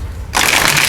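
A deck of Light Seers Tarot cards is shuffled up close, a dense riffling burst that starts abruptly and carries on loudly, with no talking.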